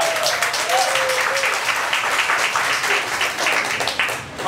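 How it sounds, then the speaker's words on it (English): Audience applause at an inspirational health lecture, sustained clapping from many hands with a few voices cheering over it, fairly loud and steady until it tapers at the end. "Give them a round of applause."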